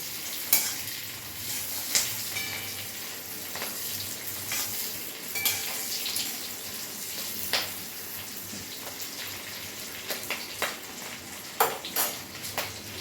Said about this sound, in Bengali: এবার পেঁয়াজগুলো ভালো করে ভেজে নেব।